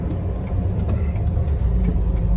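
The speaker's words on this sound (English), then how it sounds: "we are driving in the 2000 Jeep Wrangler TJ, the white one" A white 2000 Jeep Wrangler TJ heard from inside the cabin while driving, a steady low engine and road rumble running evenly throughout with no talking.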